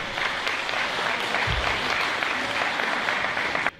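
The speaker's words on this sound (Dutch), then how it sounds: "Maak een applaus voor Bartelo." Steady applause from a crowd of diners in a sports hall, honouring the cook at a community dinner, continuous and fairly loud for several seconds before stopping abruptly.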